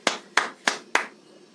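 Four sharp, evenly spaced hand claps from a single person applauding, close and fairly quiet, each a crisp slap with a short decay, the last one trailing off.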